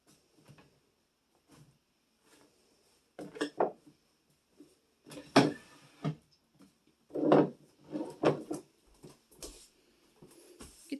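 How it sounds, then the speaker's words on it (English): Wooden dresser drawers handled and slid back into place during a bedroom clean-out, giving scattered knocks and scraping bumps in irregular bursts, fairly close and moderately loud, with no talking. "Get these drawers put back together."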